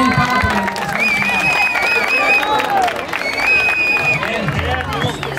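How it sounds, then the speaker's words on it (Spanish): A crowd at a ranch-style rodeo (jaripeo) in Quetzalapa, Hidalgo, cheers and claps loudly while a brass band plays and voices call out over the noise throughout. "Regálenle un aplauso a mi amigo"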